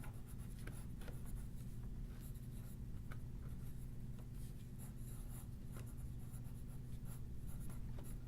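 A white or yellow colored pencil scratches across black paper in close, continuous strokes, with a steady dry rasp and short bursts of quicker marks throughout.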